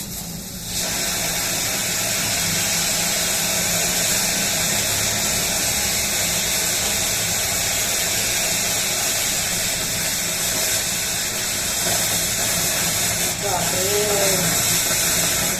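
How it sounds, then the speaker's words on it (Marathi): A pressure cooker hisses out steam as rice boils over, a loud, steady broadband hiss that runs without a break from start to finish, with faint voices in the background. "कुकर फुटला का काय"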